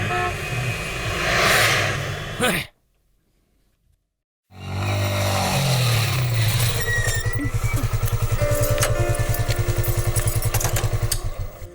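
A motorcycle ridden fast gives a loud, close engine roar that cuts to near silence for about two seconds, then returns as a steady revving drone with rapid rhythmic pulsing.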